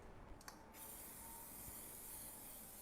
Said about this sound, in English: I'm going to spray it first with some cooking spray.